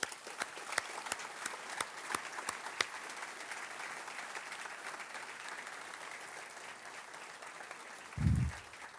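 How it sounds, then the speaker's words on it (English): A small outdoor crowd at a fire department training center dedication claps steadily at moderate distance, the applause thinning toward the end with a brief low bump. "let's start with an applause on that real quick"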